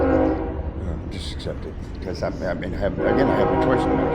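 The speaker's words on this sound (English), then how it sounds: "Sorry about the train, folks, but trains go by just like everything else does around here." A train passes nearby, with a sustained tonal horn-like drone running underneath close, continuous conversation between people for the whole stretch.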